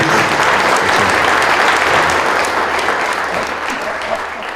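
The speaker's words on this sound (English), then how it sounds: "maybe a little round of applause for the team behind the scenes" A crowd claps steadily for the behind-the-scenes team at an event about historic photographs, loud and dense throughout before easing slightly toward the end.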